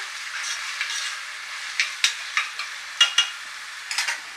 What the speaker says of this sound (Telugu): ఒకసారి చూద్దాం ఆనియన్ ఎంతవరకు వేగినాయో